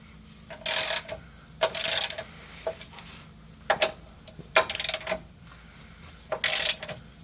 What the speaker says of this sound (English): I've got my extended handle ratchet